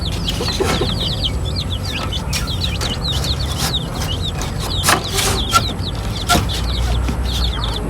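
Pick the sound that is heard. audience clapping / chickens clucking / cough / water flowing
chickens clucking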